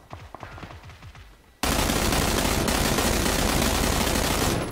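Gunfire in the video game PUBG: after a few scattered shots with some talk, a sudden loud, unbroken burst of automatic fire fills the rest of the moment at close range.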